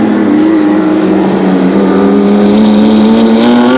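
A 1985 Amscar touring car passing at Amaroo race track, engine droning loudly with a falling pitch as it goes by, close and continuous, with no talk over it.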